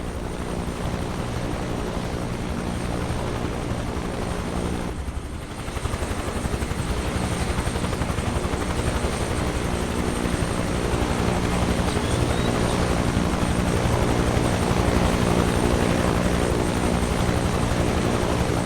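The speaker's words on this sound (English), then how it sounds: "Our aircraft is a Bell UH-1H, the Huey, one of the most recognizable helicopters ever built" A Bell UH-1H Huey helicopter's rotor and engine drone steadily in flight in Microsoft Flight Simulator 2024, a loud continuous thrum with a brief dip near the start.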